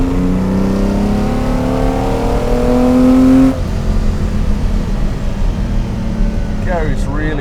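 A classic Lamborghini Islero GT car accelerates with a rising engine note that climbs through the gears, loud and sustained, then the engine falls away into cabin rumble and road noise.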